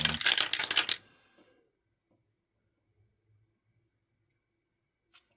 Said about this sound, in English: And then we will roll some dice for misfortune.